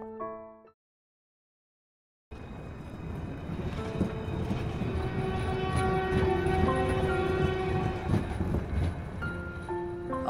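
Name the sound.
train passing by, cartoon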